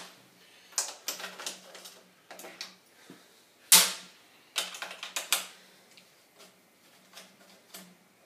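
Screws come out of a LiFePO4 battery case as sharp, close clicks and ticks in irregular bursts, with one louder snap midway and quiet pauses between the bursts.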